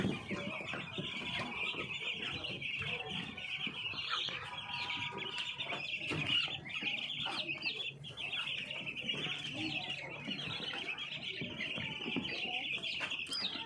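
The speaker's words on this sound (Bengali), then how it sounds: "আমার মুরগিগুলো যেন সুস্থ থাকে" Chickens kept by a woman poultry raiser cluck steadily among bird chirps throughout, fairly close, with a continuous bright background of birdsong and occasional voices underneath.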